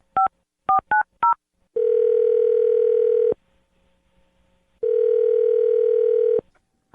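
A telephone keypad beeps through a quick run of dialing tones, followed by two long, steady ringback tones separated by silence, loud and close.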